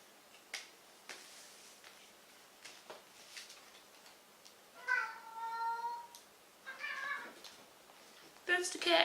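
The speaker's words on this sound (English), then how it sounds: "That's the cat." House cat meowing a few times, fairly close, in a quiet room during chair upholstery work; the clearest cries come near the end, after faint scattered clicks and taps.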